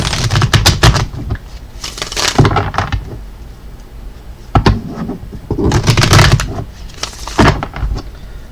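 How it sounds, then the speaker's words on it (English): Tarot cards are shuffled in several loud, close bursts of riffling and flapping, separated by short quieter gaps, with no speech. "let's go ahead and pull some cards for you"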